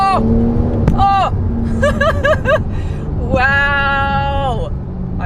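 A Porsche 911 Turbo S launches hard under launch control, its engine note rising in steady pulls against a constant roar of road noise, heard from inside the car while excited voices exclaim over it.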